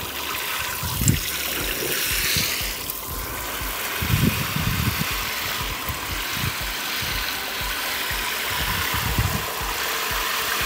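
Water from a Parkside 35-litre solar shower splashes down into a bucket outdoors in a light breeze, a continuous trickling pour with heavier gushing bursts now and then, fairly close and steady throughout.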